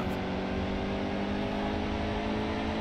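Race cars roar in NASCAR Heat 2 during a Cup race at Richmond, a steady dense engine drone with layered pitch lines, loud and unbroken with no speech.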